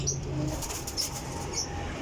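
Pigeons at a Sialkot loft, a short burst of wing flapping and soft cooing, faint and close, with no talking.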